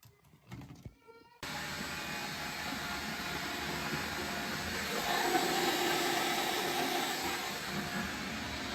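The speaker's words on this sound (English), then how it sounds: "Why am I using a shop vac right now?" A shop vacuum used for dryer vent cleaning switches on after a few brief knocks and runs in a loud, steady whooshing roar, swelling slightly partway through as air is pulled through the duct.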